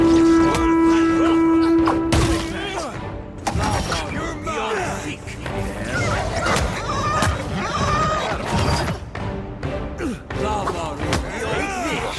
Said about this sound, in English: That loud honking horn be meaning we got a fight on our hands, folks.